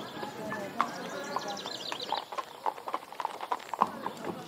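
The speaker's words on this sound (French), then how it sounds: "J'aime aussi les chevaux." Carriage horse hooves clip-clopping on the streets of Mdina, Malta, a steady, moderately close clopping rhythm under someone talking.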